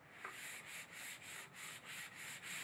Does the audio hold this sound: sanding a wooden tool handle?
yes